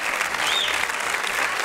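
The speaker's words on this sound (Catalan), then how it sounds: "li fem un bon aplaudiment a Andrea" Steady applause fills a Catalan singing contest stage as the audience claps for a performer named Andrea, a dense, continuous wash of hands at constant loudness throughout.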